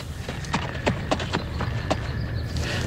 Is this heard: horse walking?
yes